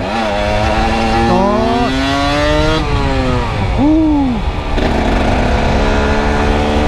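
A Cagiva Mito 125 motorcycle engine revs hard close up. Its whining pitch climbs and drops in repeated surges, loud and steady, with no talk.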